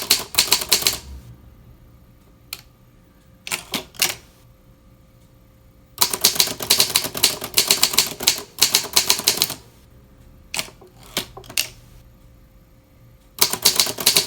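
Rapid bursts of typing on a vintage Olympia manual typewriter, crisp key strikes clustered in fast runs with short pauses between, close and loud with no voices.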